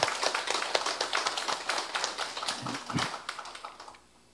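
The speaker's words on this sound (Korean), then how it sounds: "우리 다 함께 박수로 격려하고 있습니다." Church congregation applauding during a Sunday service, a dense patter of many hands clapping steadily at moderate distance, tapering off and fading out at the end.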